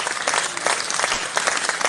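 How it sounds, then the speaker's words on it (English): An audience claps steadily in a dense, even burst of applause during a live talk session, close and fairly loud throughout. "You clap for yourself."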